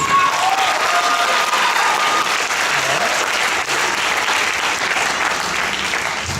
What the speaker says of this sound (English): Ladies and gentlemen, give a round of applause to the fabulous Yohan Aloysius.